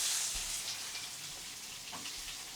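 Onions frying in a pan for a Tamil rasam with garlic, cumin and pepper, giving a steady, soft sizzling hiss with a couple of faint low knocks, no talk.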